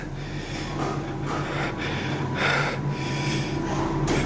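Heavy, frightened breathing in a tense night setting, a run of loud, close snorting and gasping breaths repeating roughly every second over a steady low hum, with no talk.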